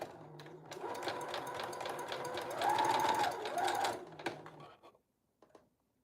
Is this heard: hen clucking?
no